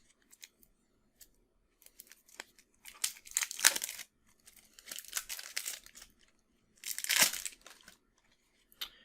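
Foil card-pack wrapper from the Horizon Zero Dawn board game being torn open, three bursts of crisp crinkling and ripping around a few scattered small handling clicks, close and fairly quiet with no talk.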